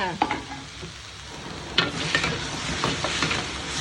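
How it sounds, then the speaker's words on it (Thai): Minced pork stir-fries in a hot pan for a Thai spicy long-bean dish, with a soft continuous sizzle and scattered scraping stirs and clacks of the utensil against the pan. "เดี๋ยวคั่วหมูให้สุกก่อนเพราะถั่วฝักยาวเรามันสุกอยู่แล้วนะ"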